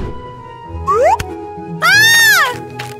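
A cat gives two short meows, the second longer and rising then falling, heard close and clear over a quiet room background with a brief thump between them.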